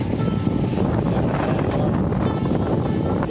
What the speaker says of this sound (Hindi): हवा चलने लगी है